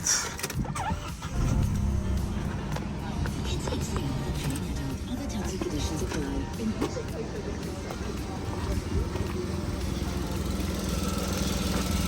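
A high-mileage 2014 Vauxhall Corsa engine cranks and catches, then settles into a steady idle with a low rumble that continues throughout.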